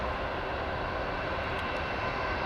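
A Boeing Dreamliner airliner at Heathrow Airport, its jet engines producing a loud, steady roar that fills the whole moment without any pause or voices.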